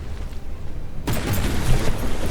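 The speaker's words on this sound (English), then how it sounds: "Mirai once again just getting bombarded by the very rapid fire shells of the Odinn." Rapid-fire naval shells pounding a battleship in the From The Depths game, a sudden loud dense barrage of booms and impacts that starts partway through and keeps rumbling, with no talk.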